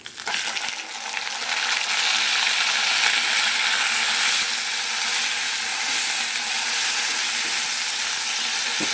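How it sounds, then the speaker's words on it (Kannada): Loud, steady sizzling as cooked greens go into a hot pan of tempering with chana dal for a festival palya, a bright crackling hiss starting abruptly and holding throughout. "ಈಗ ಇದಕ್ಕೆ ನಾವು ಬೇಯಿಸಿಟ್ಕೊಂಡಿರುವಂಥ ಸೊಪ್ಪನ್ನು ಹಾಕ್ಕೊಳ್ಳೋಣ"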